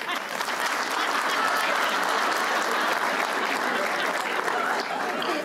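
An audience at a comedy show breaks into dense, sustained applause, steady and loud throughout with no pauses.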